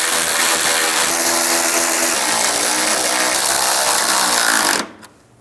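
A power tool runs steadily for nearly five seconds, tightening the headlight screws on a 2005-2015 Nissan Xterra, then cuts off abruptly.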